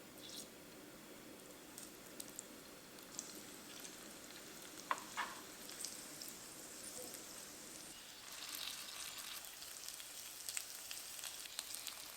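Homemade potstickers (mandu) pan-frying, giving a steady soft sizzle and crackle at close range with faint stirring clicks and small pops, growing a bit louder toward the end.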